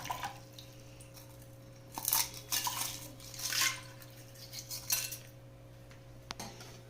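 Chilled water from the freezer being poured into a bowl for French fries, heard as several close splashy pours and clinks of the vessel in irregular bursts, with no talking.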